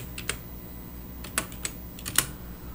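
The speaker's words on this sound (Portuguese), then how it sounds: "Vamos então digitar no terminal Setup" Light keystrokes tap on a computer keyboard while a command is typed into a Linux terminal, a few quick irregular clicks clustered in short bursts against a quiet background.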